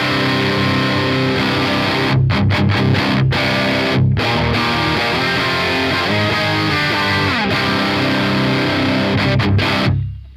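Electric guitar freshly strung with D'Addario NYXL strings, played through heavy distortion: a thick, chunky stream of chords and riffs lasting about ten seconds, loud and close, with brief choked gaps and no voices.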